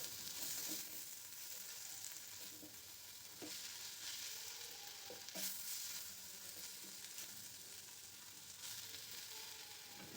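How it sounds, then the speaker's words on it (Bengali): Beto greens fry in a pan, a soft, continuous sizzle with faint stirring scrapes heard at close range and a low overall level. "এইভাবে 1 থেকে 2 মিনিট ভাজবো, তাহলেই শাকটা সিদ্ধ হয়ে যাবে"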